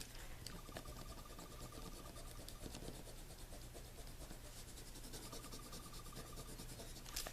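A Hello Kitty Frixion pen writing and erasing on paper, with soft, close scratching and rubbing strokes in short bursts over a steady background hiss.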